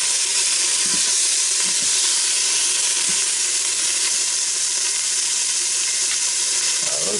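A sous vide ribeye sears in an Instant Pot Duo Crisp after being flipped, giving a loud, steady, unbroken sizzle and hiss that runs the whole time with no talking.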